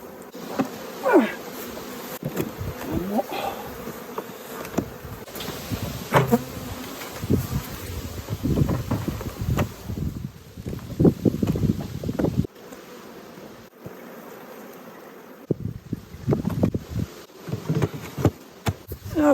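Honeybees buzz around an open hive during honey harvesting, a persistent swarm drone with individual bees passing near the microphone, plus wind gusts and handling knocks.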